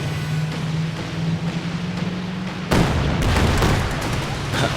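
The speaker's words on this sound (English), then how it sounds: "Someone just blew up there. Looks like it was one of these big tanks for oil or fuel." A big oil or fuel tank blows up in Company of Heroes 2, a sudden loud broadband blast at about the midpoint cutting through steady battle rumble, followed by dense crackling and rumbling debris.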